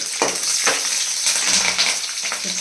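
Green chillies and bay leaves fry in hot oil for a mutton keema, a bright crackling sizzle with short bursts of spattering and stirring, close and loud, no talking.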